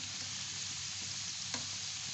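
Vegetable pakoras frying in hot oil, a steady dense sizzle throughout with one small pop, close and unbroken by talk.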